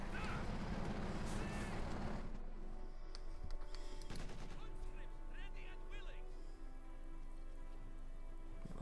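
Company of Heroes 2 battle ambience carries scattered, fairly distant gunshots popping over a steady hiss of background noise, with a denser, louder stretch at the start.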